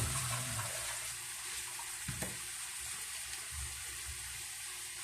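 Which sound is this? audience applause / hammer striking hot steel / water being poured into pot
water being poured into pot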